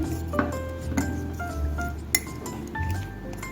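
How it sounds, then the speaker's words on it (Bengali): A spoon mixes spiced raw mango pickle in a bowl, making several sharp, close clinks against the dish at an irregular pace over a soft background, with no voices. "এখন সবকিছু একটু মিশিয়ে দিচ্ছি।"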